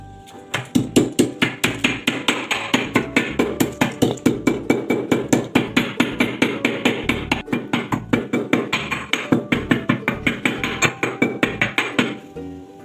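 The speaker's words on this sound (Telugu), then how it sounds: "యాలకులు తీసుకొని యాలకులు కొన్ని దంచుకోవాలి" Cardamom pods are pounded into powder for homemade jaggery sunnundalu sweets, with fast, even, sharp strikes at about three per second. The steady beat runs close and alone for around twelve seconds before stopping.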